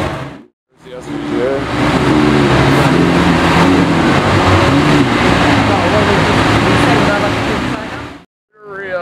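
Lamborghini Aventador SVJ passing at a car meet, a loud close engine roar that rises quickly, holds a sustained growl for several seconds, then cuts off abruptly.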